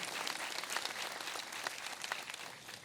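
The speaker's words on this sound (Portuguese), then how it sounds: "Dê uma salva de palmas a Jesus." A church congregation applauding during a Protestant service, dense continuous clapping from many hands, fairly distant and even throughout with no talk over it.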